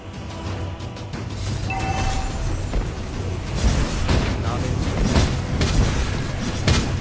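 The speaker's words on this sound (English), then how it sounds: "Your team destroyed a turret!" A turret being destroyed in a MOBA game during a Philippines versus Thailand national arena match, with a dense, loud rumbling boom and crackling blasts layered over steady game effects, and no talking.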